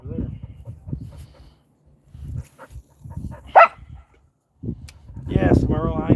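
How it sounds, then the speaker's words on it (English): Merle the dog barks in short bursts at a snowy Bear Lake, with people talking close by and around the barks. "Bark, bark, bark."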